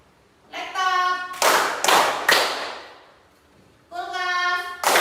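Children clap along in a classroom counting game, several bursts of group hand claps separated by short bursts of kids' voices, fairly close and loud.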